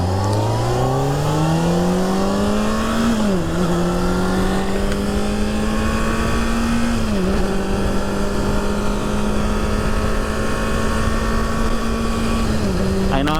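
A Honda CBR600RR motorcycle rides along at about 50, its engine note climbing steadily through the gears with brief dips at each shift, loud and continuous with constant rushing wind.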